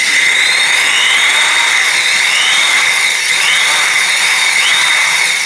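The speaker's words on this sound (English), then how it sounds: "Notice that as I go further along, I'm tilting my drill slowly up." A power drill bores into wet ceramic to make a planter hole, a steady high-pitched whine with a gritty grinding edge running loud and unbroken throughout, close by with no voices.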